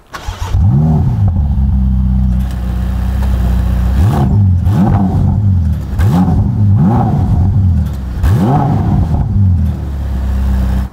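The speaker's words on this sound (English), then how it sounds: "Starting with the F8 Spider, completely stock standard exhaust, nothing done to it." A Ferrari F8 Spider on its completely stock exhaust is revved repeatedly while stationary, loud rising and falling engine blips in a steady rhythm over a continuous idle rumble.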